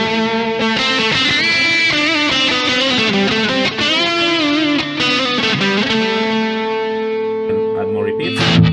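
An electric guitar played through a Simplifier DLX amp simulator pedal with reverb off rings out in distorted sustained notes and chords, loud and close, ending in a fading held chord.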